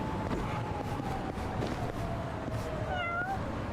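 A cat meowing in the video game Yakuza: Like a Dragon, a short rising meow near the end standing out over steady ambient background noise.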